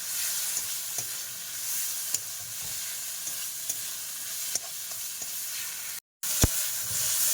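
Fish frying in a pan with spice masala, a steady hissing sizzle under occasional light clicks and scrapes of stirring, close and moderate, with a brief dropout near the end and no talking.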